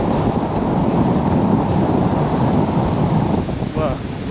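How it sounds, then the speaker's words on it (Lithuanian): Strong wind gusting along the Baltic shore at Palanga after a storm, a loud steady roar with surf mixed in, blowing continuously close to the microphone with a faint bird call near the end. "Dar paeikim šiek tiek tolyn, gal rasime daugiau vėjo."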